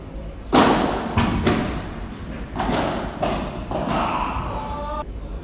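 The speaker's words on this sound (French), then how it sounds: "Et le smash dans le filet." Padel ball struck hard in a smash and driven into the net, followed by a few sharp thuds and taps of ball and rackets on the court, close and loud with little background.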